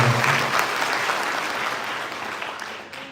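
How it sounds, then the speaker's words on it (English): Audience applause at a Kuchipudi dance debut performance, a dense, steady clapping from a full hall that stays loud and even before easing slightly toward the end. "A big round of applause to"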